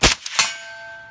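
A single supersonic 7.62x39 round fired through a Dead Air Wolverine suppressor, a sharp loud report followed moments later by a ringing clang of the bullet striking steel that lingers and fades.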